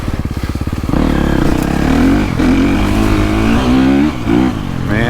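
A 2023 KTM 350 SXF dirt bike engine, fitted with a Twisted vortex, blips with choppy pulses and then holds a loud, steady high rev with rising and falling throttle, close up and with no talk.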